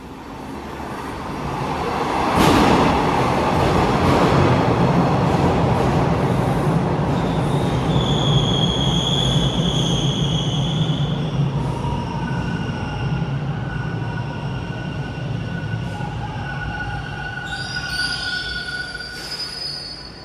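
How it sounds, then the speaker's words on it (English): An eastbound Toronto TTC subway train rolls into Victoria Park station, its rumble building quickly, then long high-pitched wheel squeals ring out as it slows to a stop. "Here comes an eastbound train. I hear it."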